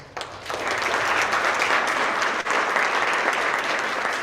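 Audience applause at a 6th to 8th grade school award assembly for science award winners, a sustained dense clapping that swells in after a brief start and holds steady with a small dip midway.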